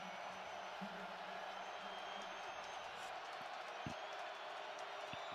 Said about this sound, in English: The crowd very much alive.